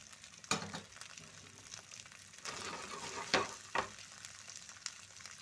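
Sweet corn and sprouted moong beans frying in a pan make a soft, steady sizzle, broken by a few sharp stirring clatters as the mixture is moved around.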